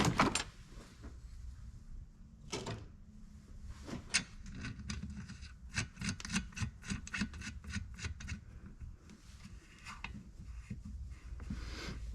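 A Husqvarna 345 chainsaw engine's crankshaft is turned slowly by hand with a nut fitted on the shaft during a rebuild, giving close, repeated rasping scrapes and dry clicks in uneven bursts.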